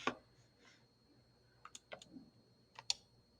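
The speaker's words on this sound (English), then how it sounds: "we're ready to type that in our calculator" A few quick, faint plastic clicks of calculator buttons being pressed as numbers are typed, scattered in small bursts in a quiet room.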